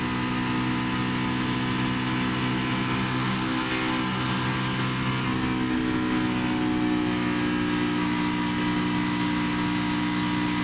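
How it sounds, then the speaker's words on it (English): NASCAR Xfinity stock car engine heard from the in-car camera at Kansas, running roughly and not cleanly, a steady loud drone with faint crackle, no talk. "That sounds like something's crackling. That's just the motor not running cleanly."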